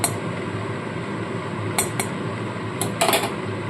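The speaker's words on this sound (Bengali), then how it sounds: "ভালো করে কড়ার চারপাশে তেলটাকে দিয়ে দিচ্ছি" Oil is spread around a kadai for a boal fish recipe, with a faint steady hiss under a few bright metallic clinks and scrapes of a utensil against the wok near the end.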